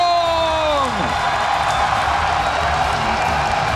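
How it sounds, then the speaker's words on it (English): A big esports crowd at BlizzCon cheers and applauds for a StarCraft player. The roar is loud and continuous and fills the arena, with a sweeping game sound effect at the start. "Massive amount of support here for Jaedong"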